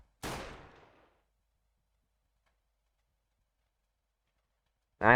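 A single sharp gunshot in Roblox Breaking Point, loud and close with a short decaying tail, followed by silence and the start of another shot at the end.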